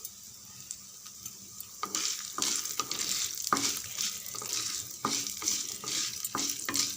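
Sliced coconut and dried red chillies frying in a pan for a coconut thuvayal, a quiet sizzle that grows louder as a spoon stirs in repeated scraping strokes, close by with no talking.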